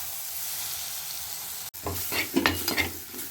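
Tomatoes sizzle in a pan with chili and turmeric powder for a sardine curry, starting as a steady fry, then a sudden drop-in followed by louder crackling and stirring scrapes up close.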